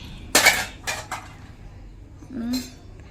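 Steel dishes and pots clink and clatter while being washed by hand in a home kitchen, a few sharp bursts of knocking spread over the moment, with a brief voice near the end.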